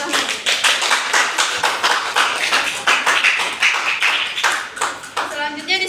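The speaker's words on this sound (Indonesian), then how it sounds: "Beri aplaus dulu untuk kelompok yang telah maju." A class of students claps for a group that has just presented in a classroom lesson, a dense burst of applause lasting several seconds with a voice heard near the end.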